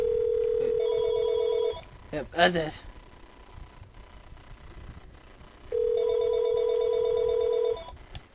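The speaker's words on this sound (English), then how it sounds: "Shut up, phone, you're annoying." An old-style telephone rings in steady electronic tones, one long ring, a pause, then another, with a short burst of other noise and a man's brief remark in between during a Battlefield 3 game.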